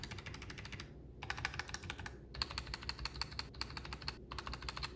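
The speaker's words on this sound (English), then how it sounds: "there also seems to be a little bit of spacebar rattle in there" Rapid clacky keystrokes on a Glorious GMMK 2 65% mechanical keyboard, bursts of typing with short pauses, close and fairly quiet, with a little spacebar rattle.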